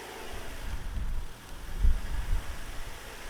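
Engine of a junkyard-rescued Honda EK Civic hatchback idling once fully warmed up, a low muffled rumble that rises and falls unevenly as the idle begins to surge, with steady background hiss.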